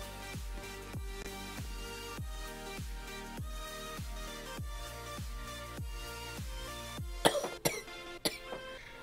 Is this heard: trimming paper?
no